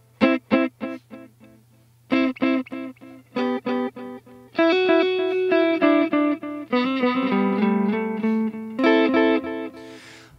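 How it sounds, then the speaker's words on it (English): Notes played through a Kurzweil KSP8 effects unit with an eighth-note delay, each short tone followed by rhythmic echoes that die away; bursts of staccato notes give way to longer sustained phrases, loud and alone without talk. "you can hear that it's more like an echo"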